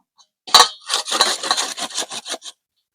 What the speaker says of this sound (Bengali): এইভাবে ঘষে নেব